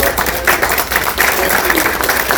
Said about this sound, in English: Let's have an in-studio guest round of applause for our candidates.